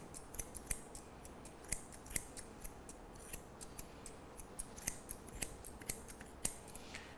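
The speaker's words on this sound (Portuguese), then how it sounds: "vou com a tesoura deitada na mesa, ó, aparando a pelagem que está passando do chão" Grooming scissors held flat against the table trim the long coat of a small long-haired dog such as a Shih Tzu or Lhasa Apso, giving crisp, irregular snips that sound close and quiet, with no talk.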